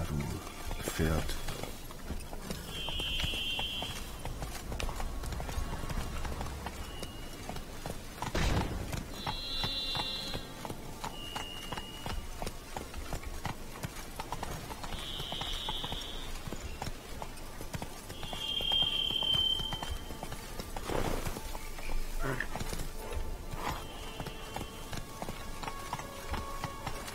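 Horse hooves clip-clopping steadily in The Witcher 3: Wild Hunt Blood and Wine, a continuous galloping rhythm under game ambience and occasional interface tones, with someone talking over it at times.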